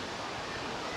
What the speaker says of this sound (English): It's a hidden waterfall.